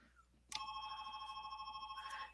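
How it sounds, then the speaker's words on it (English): A home telephone rings indoors with a sudden bright electronic trill that holds steadily for nearly two seconds, fairly faint and at a distance, with no speech over it. "my phone is ringing."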